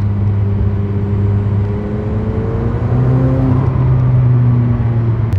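A turbocharged car engine, heard from inside the car as a loud, continuous drone with a smooth whirring rise in pitch as it revs, steady throughout with no talking.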